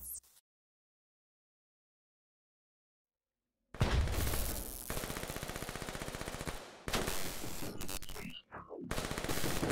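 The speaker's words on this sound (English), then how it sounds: "Taking heavy fire!" Call of Duty: Black Ops 3 combat erupts after a stretch of near silence into dense, rapid machine-gun fire with loud bursts and impacts, a voice shouting briefly amid the shooting.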